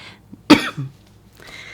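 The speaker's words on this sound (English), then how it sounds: "I was trying not to cough." A sharp, close cough bursts out, followed by a smaller throaty cough, then quiet room tone.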